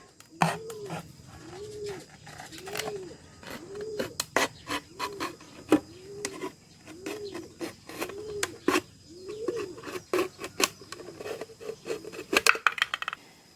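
A plastic bottle being cut in half, with a rhythmic series of rasping strokes and crisp clicks repeating roughly every second, close and fairly quiet, without speech.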